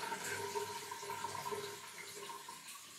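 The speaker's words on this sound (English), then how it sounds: "I'm going to throw a running tap to rinse the razor" A faucet runs in a steady, soft, hissing stream to rinse a razor during a wet shave, with slight splashing flutters and no voices.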